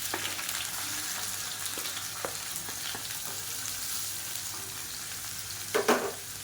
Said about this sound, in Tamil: இப்போ நல்லா பொரிய ஆரம்பிச்சிருச்சு